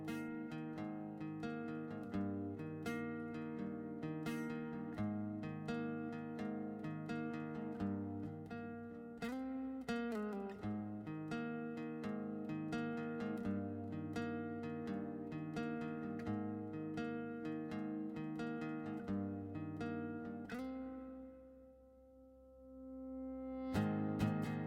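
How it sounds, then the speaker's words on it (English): Acoustic guitar opens a song in a mixed studio session, strummed chords ringing steadily and full throughout, thinning out briefly near the end before swelling back in; no voices. "So the song starts out with this acoustic guitar."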